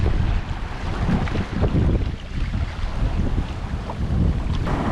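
A sailboat beating close-hauled into a headwind while heeling, with strong wind buffeting the microphone and water rushing and splashing along the hull in a continuous, loud, gusting roar.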